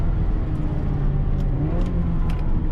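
A Honda Civic on Toyo R888R tyres held at full throttle around Silverstone, its engine a loud, steady low drone with slight pitch shifts, close and continuous, with no talking.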